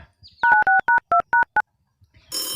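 Eight short touch-tone beeps sound in a quick rhythmic run as a phone number is dialed, followed by a pause and then the start of a buzzing ring tone.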